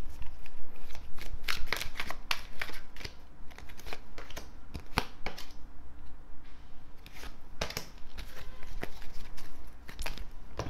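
A deck of tarot cards is shuffled close up, with a steady run of crisp riffling slaps and flicks that carries on without a break and no talking.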